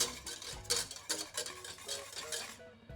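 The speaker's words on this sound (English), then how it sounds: "now we're going to bring the puree to boil on a medium heat and whisk it" Raspberry puree in a pan on medium heat, whisked briskly for a raspberry soufflé: quick rhythmic scraping strokes of the whisk against the pan, close and fairly quiet, with no talking.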